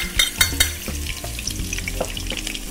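Chopped green chilies and onion fry in hot oil for chilli beef, giving a continuous close sizzle with a few sharp clatters and scrapes of stirring near the start.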